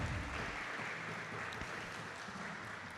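Church congregation clapping together during a Spanish-language worship service, a dense steady wash of applause filling the room throughout.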